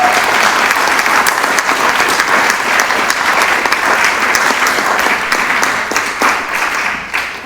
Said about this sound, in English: Why don't we start with a round of applause for Mrs. Windler?